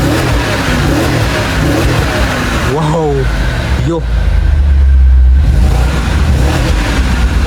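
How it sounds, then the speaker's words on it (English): A 6.4-liter car engine revs with a deep tone, surging and falling over a steady low rumble while people exclaim and talk close by. "So let me give you guys a rev."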